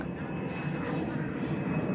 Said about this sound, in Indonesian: Tuh ada pesawat landas lagi, bro.